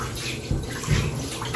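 Akamu, a Nigerian fermented corn pap, poured through cheesecloth into a cup, giving a steady close watery splash with two slightly heavier gushes partway through.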